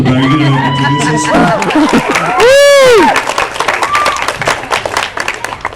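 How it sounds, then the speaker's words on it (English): Audience applause at an anime convention voice-acting panel, a dense burst of clapping with some cheering and whoops, loud and close, briefly overlapping speech and a swelling hubbub. "And please give a round of applause."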